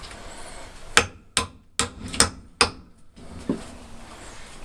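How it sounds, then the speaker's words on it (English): Hammer blows pounding a board into place on a level, insulated surface: five or six sharp, close, evenly spaced strikes followed by a softer tap, with no talking. "Then we're gonna pound it in a little bit."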